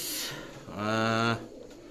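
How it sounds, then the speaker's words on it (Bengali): Close, loud cooing from Teddy pigeons, a breeder's adult birds: one sustained, resonant, throaty coo swells midway through, with softer bird sounds on either side. "লক্ষ্য করুন কবুতরগুলোর দিকে মাশাল্লাহ"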